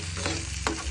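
Egg is stirred into bitter gourd frying in a pan, with a soft sizzle and two quick scraping strokes of a utensil over one brief second, fairly faint and with no talking.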